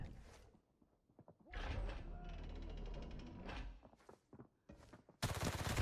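Automatic gunfire in the shooter Arena Breakout, with a budget P90 in use: a sustained burst of rapid shots, then scattered single cracks and a loud final volley, with a voice speaking briefly between the bursts.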